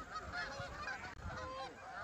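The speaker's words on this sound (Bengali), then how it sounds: "এই যে ছোট এই সাইডে একদম যে পাখিগুলো আছে এগুলো এখানকার যে পার্ক ওখানে থাকে সম্ভবত" Geese or similar waterfowl honking at Montezuma National Park, a dense overlapping flock chorus that stays steady and fairly loud throughout, with no voices.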